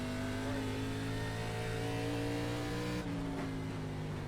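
An ARCA race car engine in the iRacing simulator drones at steady high revs, a loud sustained tonal roar with a brief dip in pitch as the throttle eases, heard alone.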